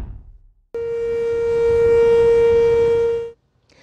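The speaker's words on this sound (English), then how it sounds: "tornado warning sirens going off in St. Charles County with no storms in sight" A civil defense tornado warning siren in St. Charles County sounds as a loud, steady tone over a rumbling background, holding for about two and a half seconds before cutting off abruptly.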